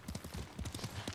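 Quick, rhythmic clip-clop of horse hooves at a fast gallop in Ghost of Tsushima, a close, regular run of heavy thuds with no voices.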